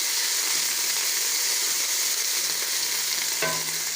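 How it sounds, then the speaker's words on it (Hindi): Garlic, ginger and green chili paste frying with onions in a pan, a loud continuous close sizzle with hissing steam and a brief stirring clatter near the end. "इसमें हम लहसुन, अदरक और हरी मिर्च का पेस्ट डाल देंगे।"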